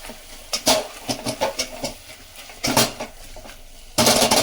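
Mutton keema is stirred in a pan for semiya, giving a run of close metal clinks and scrapes of a spoon against the pan, irregular and fairly loud, with heavier clatters at the end.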